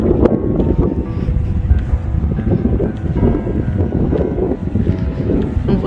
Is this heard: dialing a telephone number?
no